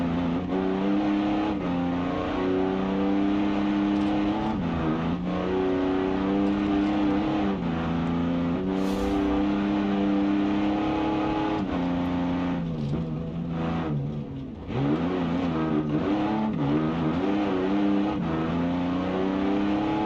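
Automatic car engine in BeamNG hunting between gears on a Pikes Peak climb, a loud continuous drone whose pitch rises and dips repeatedly as revs flare and fall, with one brief drop near the end.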